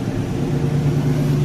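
A 1987 Buick Regal Limited idles through its dual exhaust, giving a steady, loud, close low rumble with no breaks.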